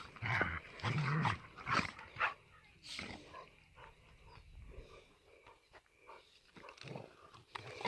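Animals play-fighting in a jungle setting, with scuffling, yelps and a few sharp high yips over several seconds, close and moderately loud, with some voices mixed in.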